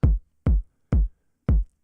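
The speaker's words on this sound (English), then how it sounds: "that's 2 kicks layered together" Four deep, punchy kick drum hits, two kick samples layered together and played from an Akai MPC 2000 XL, sound at an even pace, each one a thick layered thump with a short decaying tail and silence between.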